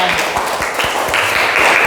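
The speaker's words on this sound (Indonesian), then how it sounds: "tepuk tangan untuk kelompok Abu Bakar" A classroom group of students claps for a team, a short burst of dense, close hand clapping with rapid overlapping claps and some voices mixed in.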